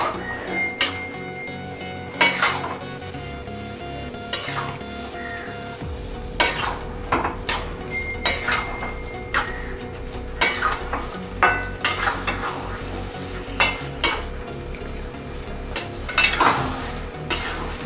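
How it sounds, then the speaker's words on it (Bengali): Prawns and pointed gourd stirred in a frying pan, the spatula scraping and clinking against the metal in repeated strokes over a steady background sizzle, close and fairly loud, with no talking. "এবার চিংড়ি মাছগুলো দিয়ে দেবো। দিয়ে আর একবার নেড়ে নেব।"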